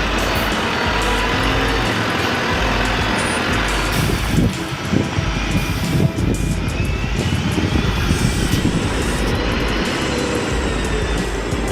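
A Scania 8x8 truck engine works hard at an old-building demolition site, giving a loud, steady, heavy rumble that holds unbroken for about twelve seconds with rough, churning texture and no talk.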